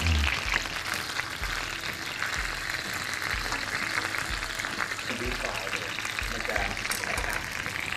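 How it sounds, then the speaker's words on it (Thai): Skin-on snow fish frying in hot oil makes a steady, dense sizzle that runs throughout, with a person talking over it. "จะทอดเอาหนังเอาหนังลงไปด้วย โดนน้ำมันด้วย"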